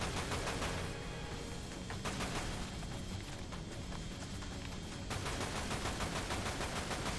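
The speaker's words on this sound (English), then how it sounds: "How about my Tommy gun?" A Tommy gun fires in Dirge of Cerberus in rapid, evenly spaced bursts of sharp cracks, loud and near, with a brief easing midway before the rattling fire resumes.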